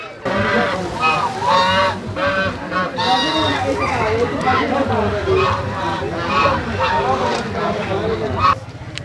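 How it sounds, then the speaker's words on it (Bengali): Ducks, chickens and geese for sale at a rural weekly market beside a railway line, with dense honking and quacking going on throughout. The calls sit close and loud under steady crowd chatter. "সবাই হাঁস মুরগি নিয়ে চলে আসছে হাটে বিক্রি করার জন্য"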